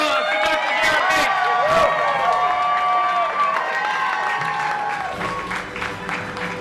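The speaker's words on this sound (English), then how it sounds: "Big round of applause for Dr. Jared Bates." Loud crowd applause and cheering at an arm wrestling championship event honoring Dr. Jared Bates, dense clapping with shouts that slowly tapers off, with voices mixed in.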